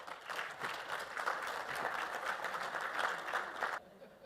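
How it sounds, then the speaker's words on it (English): An audience at an aviation industry summit in India claps for a guest speaker, a sustained round of moderately distant applause from many hands that cuts off abruptly near the end. "Vinod Kannan, please give him a warm round of applause"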